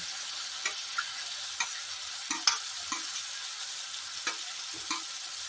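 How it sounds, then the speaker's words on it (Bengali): Goat liver frying in spice masala, a soft, steady sizzle broken by regular spatula scrapes and knocks against the pan roughly every half second, with no voices. "মেটেটা দিয়ে কিছুক্ষণ কষিয়ে নেবো"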